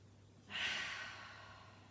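One slow, deep inhalation through the nose during a morning Pilates floor exercise, soft and close, rising then tapering off in a quiet room.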